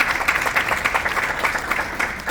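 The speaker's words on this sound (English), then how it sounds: "Give them some applause." Audience applause for family members at a keynote event, a steady patter of many hands clapping at moderate volume with no talk over it.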